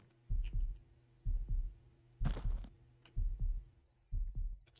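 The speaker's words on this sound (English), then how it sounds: "Okay, I hear heart beating again." Heartbeat in the horror game Bloodbark, where trees bleed: a loud, close double-thump pulse repeating steadily about once a second over a faint high hum, with no talk.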